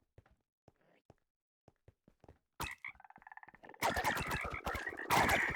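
Frogs croak in a video game mob fight, starting as sparse soft clicks and croaks, then swelling into loud, dense bursts of overlapping croaking.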